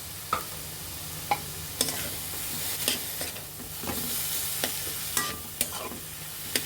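Pointed gourd seeds fry in a pan with a steady low sizzle, punctuated by regular spoon scrapes and taps as they are stirred and sautéed, close and unaccompanied by talk.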